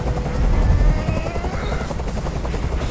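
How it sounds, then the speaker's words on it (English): A steady, loud helicopter rotor drone from the game Detroit: Become Human, with a deep rumbling low end, continuous and close, with no voices. "I can't stand that noise anymore. Tell that helicopter to get out of here."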